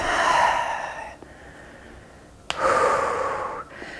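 Deep breaths drawn in and let out during a flowing yoga sequence, a long airy exhale followed by a pause, then another strong breath after a short click, close and alone.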